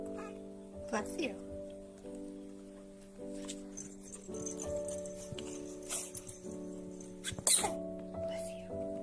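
A baby in a swing sneezes in a few short, sharp bursts over steady electronic lullaby tones, with an adult talking nearby.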